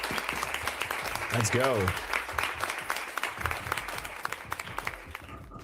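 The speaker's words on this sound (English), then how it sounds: "you deserve an applause" Brief burst of crowd applause dropped in as a sound effect during a live futures trading stream, fairly quiet and mixed under someone talking.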